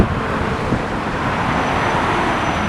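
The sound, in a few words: road traffic noise and wind outdoors in Tampa, Florida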